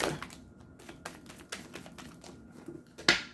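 Tarot cards being shuffled, with quick papery taps and riffles in an irregular rhythm, close and fairly quiet, ending in a sharper slap.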